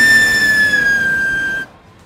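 Car exhaust whistle tips, fitted to a car bought at a police auction, give a loud steady high whistle that holds for over a second and a half, then cuts off abruptly into quiet.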